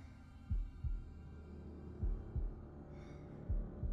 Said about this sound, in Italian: Mi sa che devo fare la cosa dei battiti